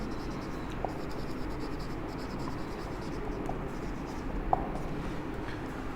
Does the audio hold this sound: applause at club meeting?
no